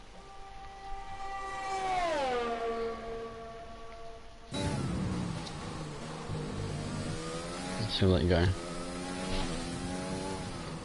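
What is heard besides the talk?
race car engine revving in a racing video game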